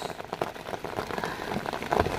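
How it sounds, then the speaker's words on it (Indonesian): Heavy rain patters continuously on surfaces during a freshwater prawn fishing outing, a dense close spatter of drops with a few louder splashes near the end. "Hujan deras"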